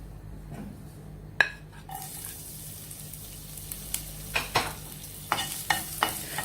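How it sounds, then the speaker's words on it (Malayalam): Chopped garlic fries in hot oil in a pan, a steady close sizzle broken by a sharp clatter early on and then repeated spoon clinks and scrapes of stirring. "അത് നന്നായി ചൂടായി വരുമ്പോൾ നമുക്ക് വെളുത്തുള്ളി ചെറുതാക്കി കട്ട് ചെയ്ത് ചേർത്ത് കൊടുക്കാം"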